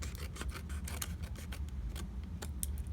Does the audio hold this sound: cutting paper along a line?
yes